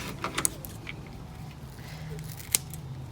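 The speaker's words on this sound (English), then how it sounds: "I'm going to cut off some of this extra green here" Scissors snip through lavender stems as extra green is trimmed from a bunch for a wreath, with a couple of sharp, close cuts standing out from quiet rustling and handling sounds.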